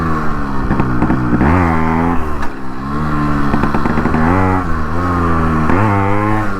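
A Yamaha RX 135 two-stroke motorcycle is ridden with its engine close and loud. It gives a buzzy, crackling note that climbs and falls through repeated revs and gear changes for the whole stretch.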